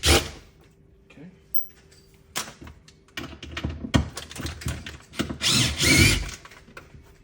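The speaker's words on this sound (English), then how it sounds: "use our star screw, our DeWalt drill, 20 volts, and get these screws removed" A DeWalt 20-volt drill with a star bit backs screws out of a cabinet drawer. Short, close whirring bursts stop and start with clicks and knocks of handling, and a voice is briefly heard.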